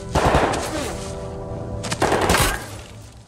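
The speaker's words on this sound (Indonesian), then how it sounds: "melibatkan mereka dalam baku tembak di mana Hamilton terluka parah" Bursts of machine gun fire crack out in a wooded film shootout, a dense rattling volley at the start and a second loud burst near the end, with a sustained ringing tone between them.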